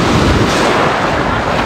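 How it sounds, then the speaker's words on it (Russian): Waves wash onto a pebbly beach at Vlora, Albania, on the Ionian Sea. Surf noise is continuous and fairly loud, with wind buffeting the microphone. "Море."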